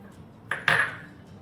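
Washed moong sprouts tumble into a bowl in two quick, bright clinks of metal and dish, close and alone.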